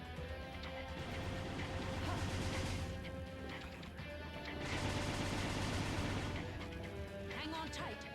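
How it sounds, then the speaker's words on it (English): A 60mm cannon keeps firing in the video game Beyond Good & Evil, dense repeated blasts and crashing bursts layered under game music and effects, swelling in two loud waves. "That gun is still going crazy."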